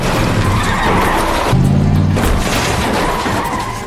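A car engine roars, tires squeal loud and close, and the car slams into the car in front of it with a heavy boom.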